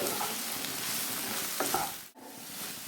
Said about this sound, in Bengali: বেল পেপার দিয়ে দিচ্ছি, রেড অ্যান্ড ইয়েলো দিয়ে ভেজে নেব